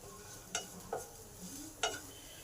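Spices frying in a pan, stirred with a few quick scrapes and knocks of a spoon over a soft, faint sizzle.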